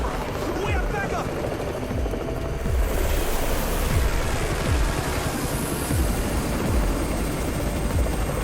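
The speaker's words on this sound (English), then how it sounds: "It's Raven's chopper! We have backup" Helicopter from the game Undawn arrives as a steady, loud rotor roar with rhythmic low thumps, blended with broadband wind-like noise across the whole stretch; speech is present.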